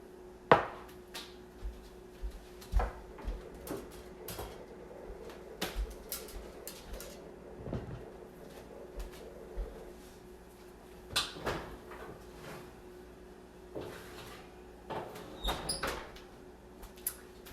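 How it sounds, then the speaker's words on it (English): Baked laadi pav being taken out of the oven, heard as scattered clunks, clicks and metallic knocks of the oven door and tray over a quiet room hum, irregular and fairly close. "So I'm going to remove it from the oven."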